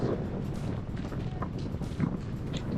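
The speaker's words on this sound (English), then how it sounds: "let that wind die down, it's a bit windy" Steady wind rushing and buffeting against a microphone outdoors in Dalaman, Turkey, a continuous low roar with no one talking.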